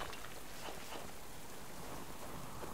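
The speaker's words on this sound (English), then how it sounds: "I know it's raining" Steady rain falls in the survival game Subsistence, a dense, even hiss that stays at one level throughout with no voices.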